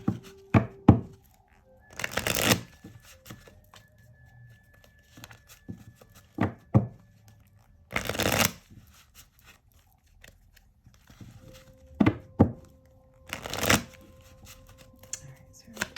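A tarot clarifying deck of cards being shuffled, heard as several short, loud riffling bursts spread apart by quiet gaps, close to the listener, with faint voice-free handling noise in between.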